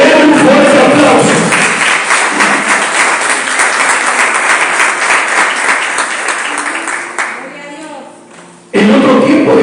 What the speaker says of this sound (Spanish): Es un fuerte aplauso